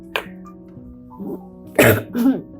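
Two or three short coughs and throat-clearing sounds, close by, with a quiet murmur between them.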